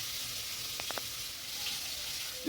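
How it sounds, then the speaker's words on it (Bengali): Potatoes sizzle in a pan in a home kitchen with a steady, soft hiss of frying oil and a few faint clinks partway through. "আলু ভাজছি"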